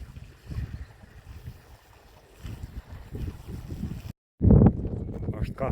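Wind gusts across open village farm fields at pepper-planting time in May, buffeting the microphone with low rumbling blasts that rise and fall, while people talk nearby and one gust briefly cuts out.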